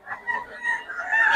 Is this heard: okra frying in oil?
no